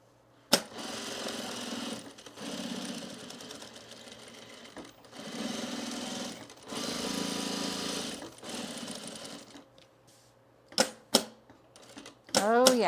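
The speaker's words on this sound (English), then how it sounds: "we're going to stitch it down" Bursts of rapid sewing-machine stitching fasten a piece of a travel bag, several runs separated by short pauses, close and fairly quiet, with brief clicks and handling noises near the end.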